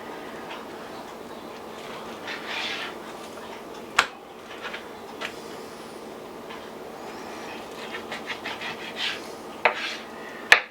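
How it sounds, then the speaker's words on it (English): A knife cutting braised beef chuck into thick strips on a board, soft scraping rubs with occasional sharp taps of the blade hitting wood, quiet and close, irregular in rhythm. "So let me cut these in strips. Nice and thick"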